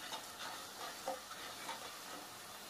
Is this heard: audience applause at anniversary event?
no